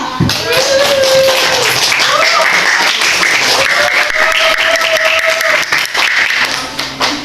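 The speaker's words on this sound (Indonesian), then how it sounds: "Tepuk tangan dong" An audience at an Indonesian committee event claps in a loud, dense burst that runs on steadily, with voices calling out and a tone sounding over the applause.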